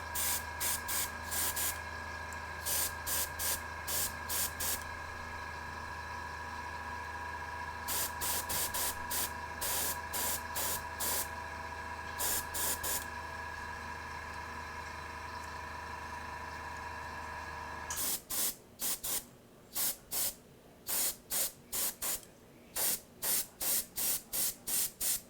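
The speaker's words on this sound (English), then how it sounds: "It's spraying pretty smooth for not really being thinned at all." A paint spray gun hisses with unthinned paint in repeated short bursts, each a few seconds long, separated by brief pauses under a steady background hum; the bursts come quicker and more choppy near the end.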